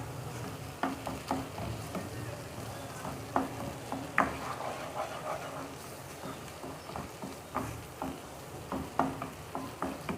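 Onions and tomatoes fry in a pan for a spicy chicken karahi, a soft continuous sizzle broken by intermittent scraping stirs, fairly faint and with no talking.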